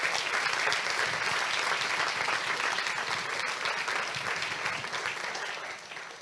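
Audience applause for the mayor at a lakeside event, steady dense clapping from a crowd that holds evenly for about six seconds before tapering slightly, with no talk over it.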